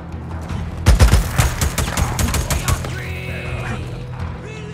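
Fully automatic gunfire in the Days Gone game, a dense burst of rapid shots with heavy low thumps up front, then thinner scattered shots as the firing trails off, with game ambience and a faint rising tone afterward.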